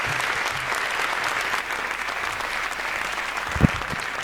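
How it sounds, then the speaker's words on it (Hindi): An audience at a Holi comedy poetry gathering claps steadily, a dense even wash of applause sustained throughout, with a short thump near the end. "जोरदार तालियां"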